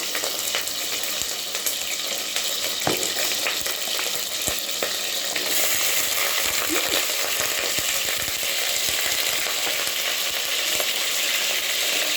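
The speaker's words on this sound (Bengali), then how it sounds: "প্রথমে আমি ফ্রাই প্যানে তেল দিয়ে নিয়েছি, তারপরে আমি চিকেনগুলো দিয়ে দিব।" Steady, loud sizzling of chicken frying in oil in a hot pan, with occasional clinks and stirring sounds throughout, no voices.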